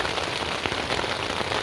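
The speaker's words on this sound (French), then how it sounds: "on l'entend, un petit peu de pluie pendant toute la journée" Steady rain falling on a surface, a dense continuous hiss of drops on a wet day of riding a 125cc motorcycle on dirt tracks, close and even throughout.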